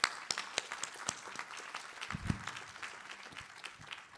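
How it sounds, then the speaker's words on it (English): Light, sparse applause at an AI engineering conference session, scattered claps from a modest audience, fairly faint and thin, with a brief low thump partway through. "please join me and give a big round of applause to all our speakers"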